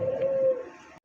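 Pigeons cooing at a bird seller's stall, among them a yellow pair of Lotan pigeons: a close, steady low coo held for about half a second, then fading into quieter murmuring before stopping abruptly.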